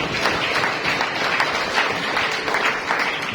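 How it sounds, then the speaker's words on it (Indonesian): A church congregation at an Indonesian Sunday service claps for God, a lively, sustained round of applause filling the hall, with faint voices and cheers mixed in. "Beri tepuk tangan buat Tuhan."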